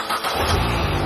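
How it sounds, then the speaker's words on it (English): A wrecked salvage Mini fires up: a brief starter crank catches into a running engine that settles into a loud, close, steady idle within about a second. "It starts."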